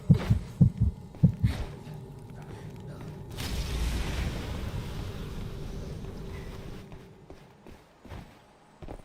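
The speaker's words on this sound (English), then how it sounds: "If a rogue is nearby, you hear a heartbeat notification." A few deep, thudding heartbeat pulses sound in the Mistfall Hunter video game, warning that a rogue is nearby, followed by a long stretch of muffled rumbling and scattered soft knocks.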